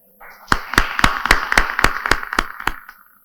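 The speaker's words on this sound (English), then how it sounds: "Another round of applause" About nine sharp hand claps from a conference audience ring out in a quick, even rhythm, close and distinct, then stop.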